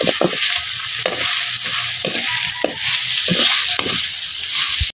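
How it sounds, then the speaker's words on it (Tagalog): Oil sizzles and crackles steadily in a pan as ingredients for Bicol Express are sautéed before the coconut milk goes in, loud and close, with regular stirring scrapes and clacks of a utensil. "Papamantikain natin guys bago natin ilagay yung gata para mas lalong sumarap."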